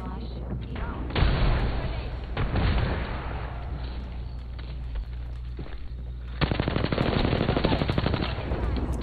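Sustained automatic gunfire from the battle royale shooter Apex Legends rattles loudly and continuously, shifting into a denser rapid burst toward the end, with voices speaking over the fighting.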